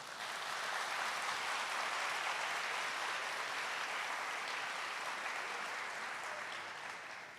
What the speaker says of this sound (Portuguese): Agora vocês podem bater palmas